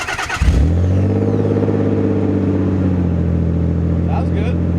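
A Nissan 300ZX engine cranks, catches and settles into a steady, smooth idle with a deep exhaust note, close and loud, with a faint voice near the end.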